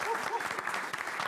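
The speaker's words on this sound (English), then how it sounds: "They deserve a round of applause for that." Studio audience applause on a live South African TV broadcast, a steady wash of clapping that runs the whole short moment with a voice talking over it.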